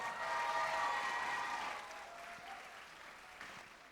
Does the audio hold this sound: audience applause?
yes